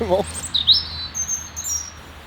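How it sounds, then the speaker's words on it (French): A European robin sings at dawn, around ten past six, giving a few high thin whistled notes and trills that stand out faintly against a quiet outdoor background. "C'est le premier rouge-gorge, 6h10. C'est l'heure du rouge-gorge."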